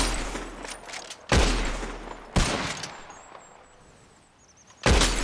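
In Red Dead Redemption 2, gunshots fired at bottles in a shooting contest ring out loud and close: three sharp reports spaced about a second or more apart, each trailing into a decaying echo.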